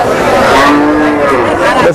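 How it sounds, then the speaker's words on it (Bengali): A cow lets out a loud, close, drawn-out moo lasting about two seconds at the Aricha cattle market in Bangladesh, where bony cattle are sold, with faint crowd noise underneath. "নিয়ে হাড্ডি সার গরু সব"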